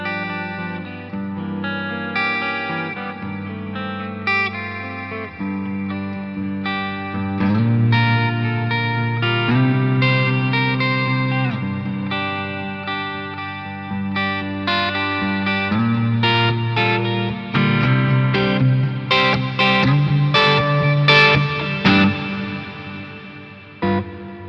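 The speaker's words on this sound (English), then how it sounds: "you get this more modern, spacey sort of sound, and you can hear that the chorus modulation is more attached to the reverb signal than the main guitar sound" Electric guitar played through a reverb pedal with chorus modulation on the reverb tail: sustained chords and picked notes ring out with a wide, shimmering, spacey wash, with no talking over it.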